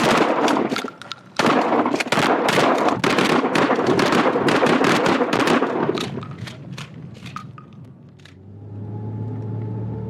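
Rapid volleys of shotgun blasts firing buckshot, a dense string of sharp close reports in quick succession for several seconds, then a lone shot or two before fading to low background hum.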